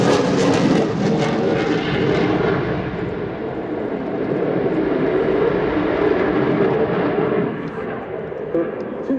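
A Finnish Air Force F/A-18C Hornet fighter jet performs a display at RIAT 2025, its loud, rumbling jet roar sweeping past and then fading slightly, with a voice talking over it.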